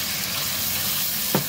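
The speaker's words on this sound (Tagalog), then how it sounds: "Pag mainit na po ang ating mantika, i-fry na po natin ang ating beef." Beef fries in hot oil in a pan with a steady, close sizzle and fine crackle throughout, and a brief scrape or clink near the end.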